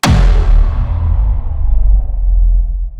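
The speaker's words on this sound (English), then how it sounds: "into a transient punchy sound like this." A punchy sound-design hit made with the Traveler plugin, opening on a sharp broadband attack that decays into a heavy, sustained low rumble lasting a few seconds, loud and alone.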